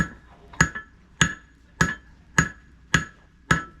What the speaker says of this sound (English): All I'm doing right now is I'm hammering and making a point on the end of this.